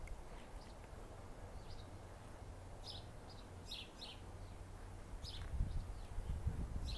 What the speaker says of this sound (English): You can hear the birds out here singing.